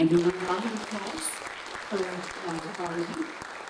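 An audience claps for the governor of Maharashtra at a Raj Bhavan yoga event. The applause is moderate and fades in and out, mixed with a voice talking over it.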